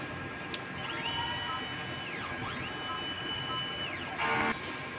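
A DTF printer runs a print head cleaning cycle, with whirring motor sweeps rising and falling over a steady mechanical hum and a brief louder buzz near the end.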